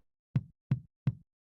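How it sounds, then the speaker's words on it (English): Three evenly spaced kick drums play without EQ, dull and boomy with almost no high end, each a short muffled thud over silence. "There's like almost no high end to these kicks."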